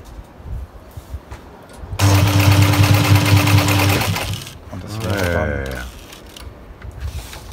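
A sewing machine stitches a zigzag seam on fabric for a sailboat dinghy cover, running loud and close in a steady rapid burst for about two seconds, with people speaking German before and after.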